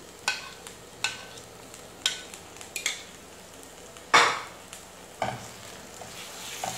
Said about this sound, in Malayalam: ഞാൻ അതിലേക്ക് ഒരു 1/2 കപ്പ് തൈര് ചേർക്കാൻ പോവാണ്.